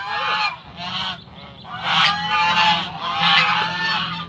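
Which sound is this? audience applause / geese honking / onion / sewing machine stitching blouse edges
geese honking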